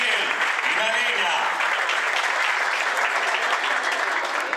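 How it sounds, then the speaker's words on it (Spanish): Applause from a nightclub-style audience welcoming a tango dancing couple to the stage, steady dense clapping sustained throughout with voices mixed in underneath. "fuerte aplauso para esta pareja de tango que nos viene a regalar su arte esta noche"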